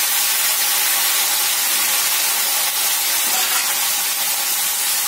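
Chopped tomatoes, added in a generous amount, sizzle and hiss in a hot pan over the heat while a curry is being cooked. The frying noise is a steady, close, broadband hiss with no talk over it.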